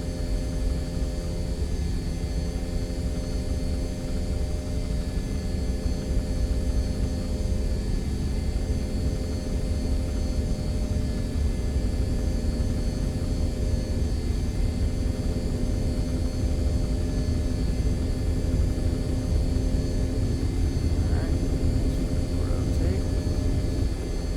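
Steady simulated jet engine roar of an MD-80 airliner accelerating down the runway on its takeoff roll in X-Plane 11, a continuous loud drone with a faint rising tone near the end, no talk over it.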